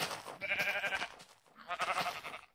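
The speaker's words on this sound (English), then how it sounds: "Sheep! I hear sheep!" Two drawn-out sheep bleats from Minecraft VR beta, a wavering nasal call followed by a pause and a second bleat, moderately near with no talking.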